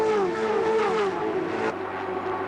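Auscar series race cars screaming past on a circuit, a loud high-revving engine roar with a falling pitch sweep as a car passes close, then a steadier drone of engines carrying on.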